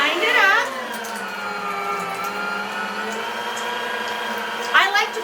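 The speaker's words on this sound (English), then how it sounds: "We're gonna grind it up." An electric meat grinder runs steadily while grinding venison, giving off a loud, continuous motor whine and hum. Short bursts of higher strain sound come at the start and near the end.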